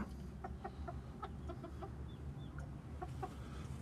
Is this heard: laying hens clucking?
yes